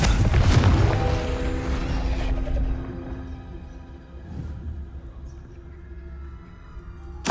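A Confringo explosive spell blast in Hogwarts Legacy gives a loud booming burst that decays over a few seconds, with a faint softer pop afterward.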